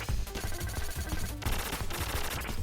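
Rapid gunfire from the run-and-gun video game Contra Hard Corps, a dense stream of quick shots with explosive bursts, loud and continuous over a short stretch.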